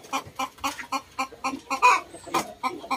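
A pure Japanese shamo gamecock rooster clucks in a quick, regular series of short pulses, close by and moderately loud, with one slightly sharper call near the end.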